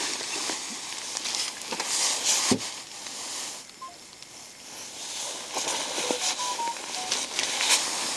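Telephone keypad dialing tones sound as a few brief, faint beeps against a noisy outdoor background during a fishing trip.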